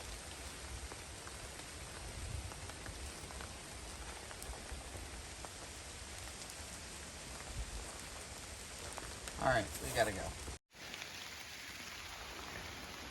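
Light rain drizzles steadily on the Appalachian Trail, a soft, even patter of drops throughout, with a brief louder rustle near the end as a person speaks briefly.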